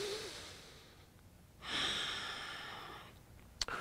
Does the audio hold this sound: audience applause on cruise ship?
no